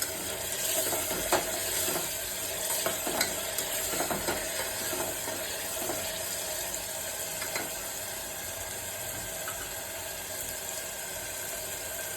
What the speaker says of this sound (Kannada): ಒಂದು ಪಲಾವ್ ಎಲೆ, ಏಲಕ್ಕಿ, ಜೀರಿಗೆ, ಸ್ವಲ್ಪ ಮೆಣಸು ಹಾಕ್ತಾ ಇದ್ದೀನಿ. ಇದನ್ನು ಫ್ರೈ ಮಾಡ್ಕೊಳ್ಳಿ.